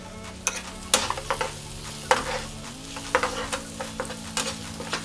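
Ginger garlic paste frying in a pan for a gongura dried prawn curry, soft steady sizzle punctuated by repeated sharp spoon scrapes and clacks against the pan, close and clear with faint music beneath.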